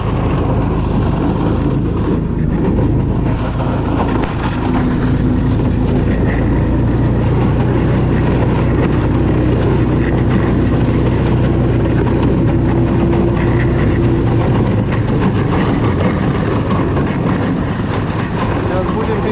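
The engine of a motorized snow tow, a buksirovshchik pulling people on a frozen ice-fishing trip in frost and wind, drones loudly and continuously up close, with people talking over it.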